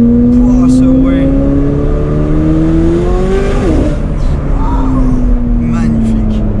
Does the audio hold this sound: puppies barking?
no